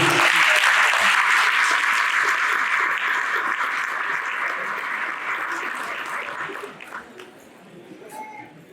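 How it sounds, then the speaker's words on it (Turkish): Strong audience applause for a district mayor at a meeting with apartment building staff in Beylikdüzü, loud and dense at first, then thinning out and fading to a few scattered claps near the end. "Mehmet Murat Çalın Başkan'a kuvvetli bir alkış istiyorum"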